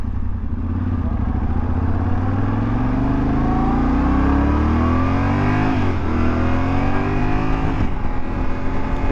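A 2024 Yamaha Tenere 700 motorcycle accelerating, its engine note climbing steadily through the gears with rising pitch, dropping briefly at each shift near the six and eight second marks, loud and close with wind rush.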